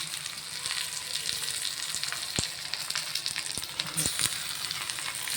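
Batter-coated colocasia leaf rolls fry in oil in a pan, a continuous bright sizzle with occasional sharp pops and ticks, close and fairly loud, with no talking.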